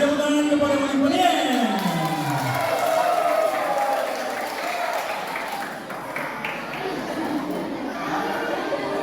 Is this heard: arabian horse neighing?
no